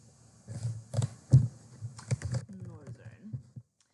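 Password typed on a computer keyboard, a quick run of light key clicks and taps with a heavier keystroke near the start, while someone speaks briefly over the typing.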